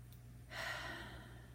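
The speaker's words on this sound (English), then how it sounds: "And just take a breath." A single deep breath taken during an EFT tapping session, a soft airy inhale-exhale swelling up after a brief pause and lasting about a second, close and quiet over a low steady background hum.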